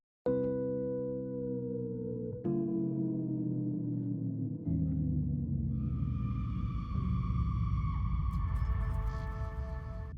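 Sustained electric keyboard tones slide slowly downward in pitch, with new notes starting a few times as higher synth layers enter later.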